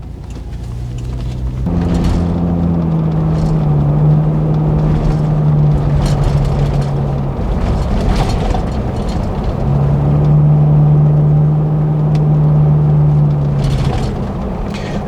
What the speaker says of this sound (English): with the windows closed, the car moving, the motor running obviously, and some of the outside noise coming in